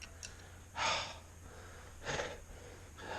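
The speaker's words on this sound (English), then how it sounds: "as you can tell by the way I'm puffing and panting here" A man working hard on a Jaguar MKII engine rebuild breathes in two loud, close, heavy puffing exhales about a second apart, over faint background hum.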